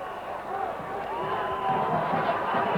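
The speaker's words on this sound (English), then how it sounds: "The crowd are enjoying this." A cricket crowd cheers a huge six by Shahid Afridi at a 1996 Pakistan versus Sri Lanka one-day international in Nairobi, a sustained roar with whistles heard from the broadcast position.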